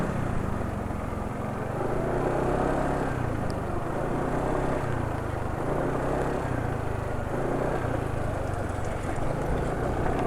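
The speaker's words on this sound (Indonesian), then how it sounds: "ini suara mesinnya jauh lebih halus daripada oli-oli lain ya" Motorcycle engine idling steadily on SPC SDM oil, a continuous low smooth hum with a faint higher whine, close and constant throughout with no talk.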